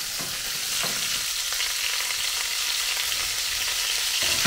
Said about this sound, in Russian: пока овощи обжариваются